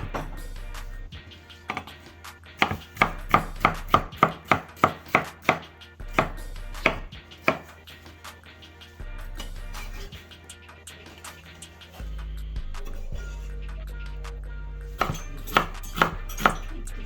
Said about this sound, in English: The next step is to peel and cut the cucumber into squares.